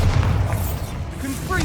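A deep booming blast from the Bombarda explosion spell in Hogwarts Legacy, set in the Feldcroft catacombs, a low rumbling impact heard under voices.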